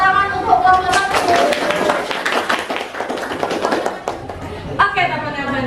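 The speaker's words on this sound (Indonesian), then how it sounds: "tepuk tangan untuk kelompok 1." Classroom group of students applauding a presenting group during a lesson, dense clapping from roughly one to four seconds with chatter and voices mixed in, then talk resumes near the end.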